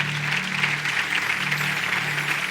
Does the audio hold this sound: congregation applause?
yes